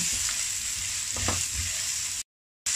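Chopped onion sautés in a little cooking oil for a Filipino beef brisket caldereta stew, a steady close sizzle with a few stirring scrapes, cutting off abruptly near the end.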